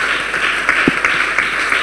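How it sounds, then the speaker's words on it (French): A church congregation claps together as an offering during a prayer and intercession service, a dense continuous round of applause with a few sharper claps standing out, steady and fairly loud. "Clap offering to Jesus Christ."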